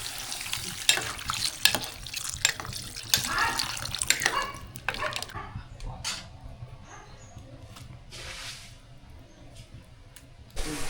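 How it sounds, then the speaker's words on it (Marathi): Water pours into a pan of crab curry made with besan-stuffed crabs, a broad splashing rush for the first five seconds, then quieter sizzling and clinks, with no talking. "आता आपण पाणी टाकून घेणार आहे ह्याच्यामध्ये."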